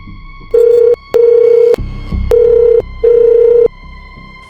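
A mobile phone rings after a number is dialed: steady ringback tones in long repeating bursts with short gaps, clear and close, no talking.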